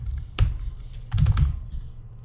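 Typing on a computer keyboard, a few quick bursts of clicky keystrokes close to the microphone, with short pauses between them and no talking.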